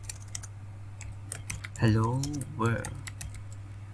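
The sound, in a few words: typing on a computer keyboard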